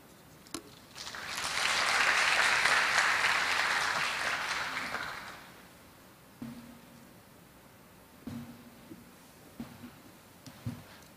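A warm round of applause greets Incheon's vice mayor at the opening ceremony of an information session on careers in international organizations, swelling for about four seconds and then dying away to scattered faint knocks.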